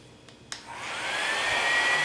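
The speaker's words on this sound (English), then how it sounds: "I'm gonna put this little tiny hair dryer, plug it up" A tiny hair dryer switches on after a couple of sharp clicks, its airy whoosh climbing quickly to a steady, fairly loud hum that runs on alone.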